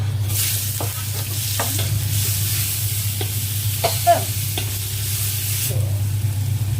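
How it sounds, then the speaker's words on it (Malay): Garlic and tomato sizzle in hot oil, a loud, continuous close frying crackle over a low steady hum, with occasional spatula stirring clinks and no speech. "Okey, minyak dah panas. Masukkan dulu bawang putih, tomato."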